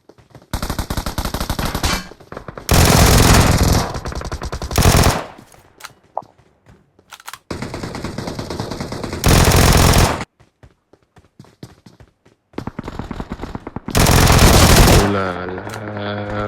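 Automatic gunfire from a gun in PUBG, several loud bursts of rapid shots separated by short pauses, close and sharp, with a brief voice near the end.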